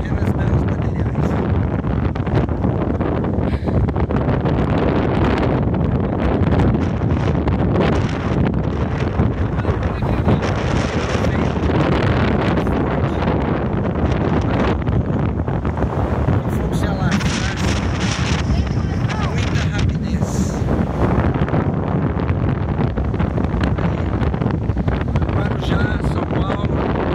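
Strong coastal wind in Guarujá buffets the microphone continuously, a loud unbroken roaring rumble with surging gusts throughout.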